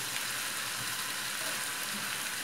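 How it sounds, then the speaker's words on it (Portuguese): Rice sizzles steadily in a hot pan as it is fried before cooking, a continuous close crackle with no voices over it. "Então, vou fritando aqui"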